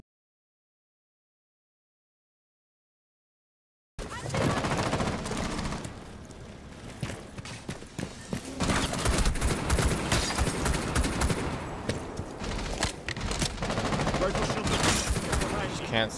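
Gunfire in Rainbow Six Siege erupts after a few seconds of silence, with dense bursts of automatic rifle shots and impacts that continue loudly to the end, and a player voice is faintly present.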